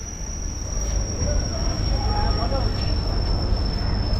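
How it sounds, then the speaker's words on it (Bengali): Shahid Express superfast train with new LHB coaches, at a crowded station with rail fans watching, gives a steady loud rumble with a thin high whine throughout, and voices murmur underneath. "এই হচ্ছে শহীদ এক্সপ্রেস"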